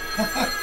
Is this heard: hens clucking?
no